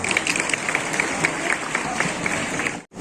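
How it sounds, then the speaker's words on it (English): An audience at a school oath-taking ceremony applauds a guest with a steady round of clapping that carries on for about three seconds, then cuts off abruptly near the end. "Please give him a big round of applause."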